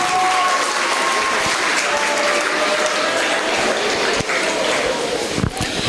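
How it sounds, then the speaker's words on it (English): A large audience at a Year 11 school prize-giving ceremony applauds, with loud, dense clapping that holds steady for the whole stretch and shows no sign of dying away. "Can we give them another big round of applause?"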